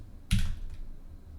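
A single short burst of keystrokes on a computer keyboard, close and crisp, followed by near silence.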